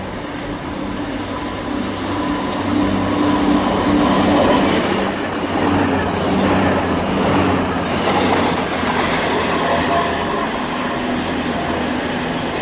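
A loud passenger train from London Euston to Blackpool North rolls through Watford Junction station, a steady heavy rumble with clattering wheels and high metallic squeals that lasts throughout.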